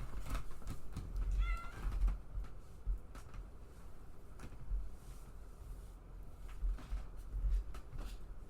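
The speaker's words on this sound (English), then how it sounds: "My cats." Domestic cats meow indoors, a few short nearby cries scattered over a quiet room with soft thumps and background noise, no speech.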